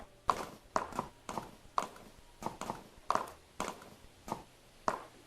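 Horse hooves walk in the video game Stars End, a steady series of about a dozen crisp clip-clop strikes spaced roughly half a second apart, close and fairly quiet with no talking.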